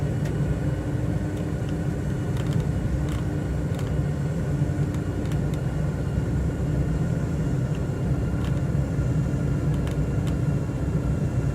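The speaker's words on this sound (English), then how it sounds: "I have a powerful plane coming in on a short runway" Powerful propeller plane on final approach to a short runway in a VR flight simulator with flaps fully down, a steady loud engine drone and rumble throughout, with faint clicks over it.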